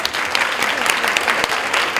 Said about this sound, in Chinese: 热情掌声，再来一次拍手